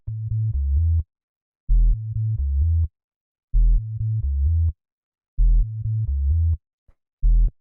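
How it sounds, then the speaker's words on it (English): A deep electronic minimal dub house bass repeats a short, simple note pattern in four bars separated by brief silences, clean and loud, with no voices. "The next sound we have here is the bass, which sounds like this."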